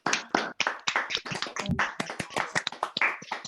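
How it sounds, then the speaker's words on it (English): A small bookshop audience claps after an author's presentation. The individual claps are distinct and uneven, giving a sparse, close round of applause that stays at a modest level throughout. "So can we have a round of applause, please, for Laura and the presentation?"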